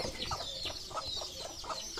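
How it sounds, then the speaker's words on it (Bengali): Several chickens, with small chicks nearby, cluck in short repeated bursts while fighting at a village farm in the morning, moderately near and fairly soft, with no talking. "মুরগি মারামারি করতেছে"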